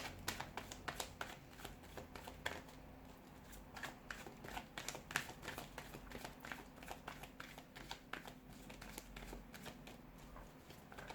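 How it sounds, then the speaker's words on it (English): A deck of tarot cards shuffled by hand in a quiet room, with repeated soft riffling flutters and slaps of card stock coming in steady bursts, close and moderately loud, with no talking. "let's go ahead and give the cards a shuffle"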